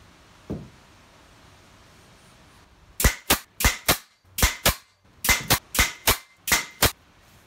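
Nails driven into glued wooden panels of a shaker-style storage box, about a dozen sharp hammer blows in quick pairs and short bursts, close and loud after a quiet start.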